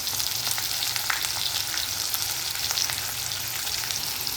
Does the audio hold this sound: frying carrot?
yes